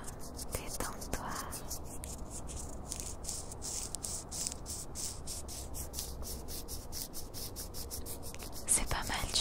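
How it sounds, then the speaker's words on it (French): Dry, crackly rustling of a leaf being rubbed in a steady, rapid rhythm up close, with faint birdsong in the background. "récupérer une petite feuille qui était déjà tombée par terre pour faire un petit peu de bruit avec"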